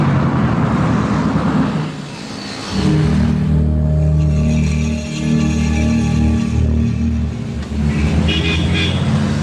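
A car engine rumbles steadily and revs as the vehicle pulls away, loud and close at first, with a brief dip before the engine noise swells again and holds.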